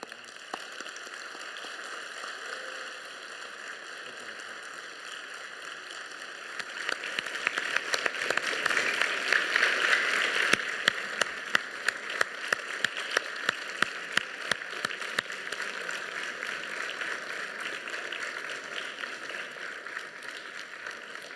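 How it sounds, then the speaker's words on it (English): An audience at a Yom HaShoah school assembly breaks into applause, starting softly and swelling into steady, dense clapping that carries on for about fifteen seconds in a large room. "We can all just give Paul a round of applause for being here today."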